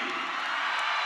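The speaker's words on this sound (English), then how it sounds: "You can hear the crowd. Great crowd here tonight at Burns Arena in St." Crowd noise fills a high school basketball arena, Burns Arena in St. George, at a 3A boys state tournament game: a steady, dense roar of cheering and whoops with no clear breaks.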